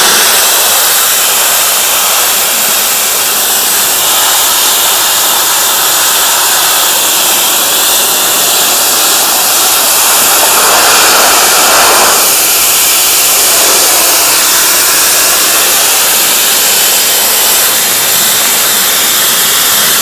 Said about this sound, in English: we're going to go and just blast it off with 4 gallons a minute, 2000 psi hot water pressure washer